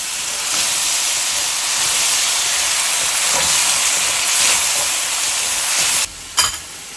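Steady, loud sizzling hiss of sauce hitting vegetables in a hot pan for chilli paneer, continuous and close, with faint scraping as the mix is stirred and a brief drop near the end.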